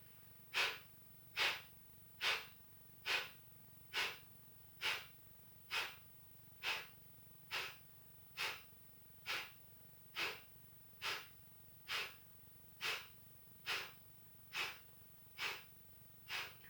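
Deep yoga breaths during a winter solstice flow, a steady rhythmic series of about twenty quick, airy breath pulses, close and fairly soft, with no talking.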